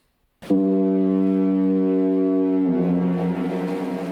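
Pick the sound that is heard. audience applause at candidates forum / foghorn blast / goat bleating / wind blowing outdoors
foghorn blast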